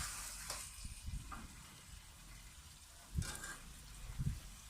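Achari potatoes fry in a karahi over a raised flame, giving a faint, soft sizzle broken by a few light stirring clinks and scrapes.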